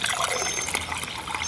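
Monster Nasty Beast Hard Green Tea, a 6% hard tea, being poured, giving a continuous close splashing trickle of liquid that holds steady throughout.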